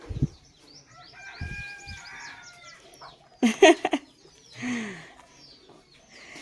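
Chickens and chicks in a wire-mesh coop give short clucks and squawks, with one louder burst of calls midway and a few high chick peeps, close by and without talk.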